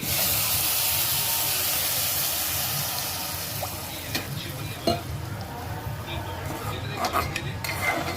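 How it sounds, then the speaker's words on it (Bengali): Water is poured over dry, well-fried rice seasoned with pepper in a hot pan, bursting into a loud, close hiss that gradually settles into a softer simmer with occasional utensil clinks. "এবার এতে জলটা দিয়ে দেবো পরিমাণ মতো"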